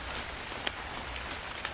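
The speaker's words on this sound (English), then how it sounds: "And the rain." Steady rain in the video game ARK: Survival Ascended, a soft, constant hiss of falling drops with a couple of faint sharp ticks, quiet and without voices.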